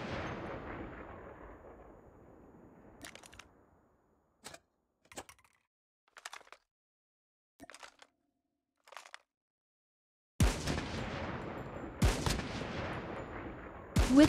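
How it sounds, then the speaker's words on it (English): Gunfire in the Call of Duty video game: a burst of shots, then about half a dozen short, sharp reports spaced apart with near silence between them, and louder dense firing near the end. "With the precision of a marksman, Dylan aimed and fired, hitting the penultimate warrior with a well-placed body shot"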